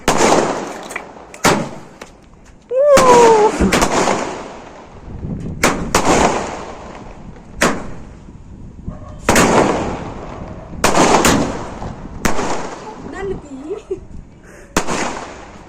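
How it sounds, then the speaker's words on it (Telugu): Firecrackers set off at a birthday celebration, going off as a run of sharp, loud bangs and pops at irregular intervals, each with a short crackling tail, while people talk briefly between blasts. "ఫైర్ క్రాకర్స్ తీసుకుని వచ్చాను"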